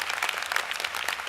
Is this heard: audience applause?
yes